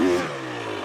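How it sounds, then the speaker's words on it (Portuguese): A dirt motorcycle engine revs hard as the rear wheel spins without traction, a loud, brief roar that holds steady. "Se eu for aqui no acelerador, ó. Ó, se eu tô aqui no acelerador, ó. A moto patina"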